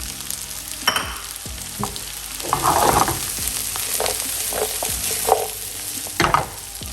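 Onions and carrots fry in a pan, with a steady sizzle interrupted by scraping stirs and a few clacks of a utensil, close up and with no voices.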